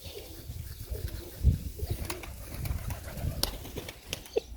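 Young pigeons in cages give soft, low cooing calls at irregular intervals, with faint rustling and light knocks around them at close range.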